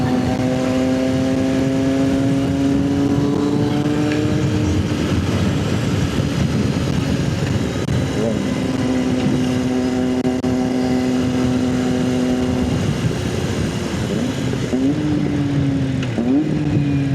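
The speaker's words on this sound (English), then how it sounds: "Listen to that quick shifter on that 765." A 765 motorcycle revs hard and upshifts with a quick shifter, its steady engine drone dropping in pitch at several clean shifts, loud and close throughout.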